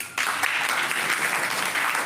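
An audience at an inaugural session bursts into applause after a brief pause, a dense, steady clatter of many hands clapping that holds evenly throughout.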